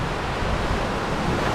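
Ocean waves wash in a steady, broad roar of surf, loud and continuous across the whole stretch, with no talking.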